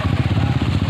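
A motorcycle engine chugs in rapid, even pulses on a rain-soaked, very muddy road near Liwa, West Lampung, loud and close for under a second.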